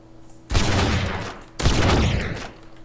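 Gunfire in the survival video game DayZ, two loud close bursts of rapid shots, each lasting about a second, separated by a short gap.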